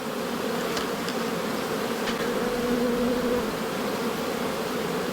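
Bees from a defensive, agitated hive that has just been opened drone in a steady, dense buzz that fills the whole stretch, close and constant with no talking.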